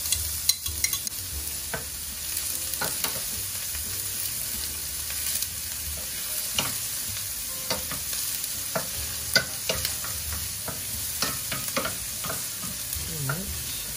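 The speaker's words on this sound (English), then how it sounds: "the oil is hot. Okay, so of course we're gonna start with our aromatics, so we're gonna start with the onions" Sliced onions go into hot oil for Belizean stew beef, frying with a steady close sizzle broken by repeated scrapes and clacks of a spoon stirring the pan.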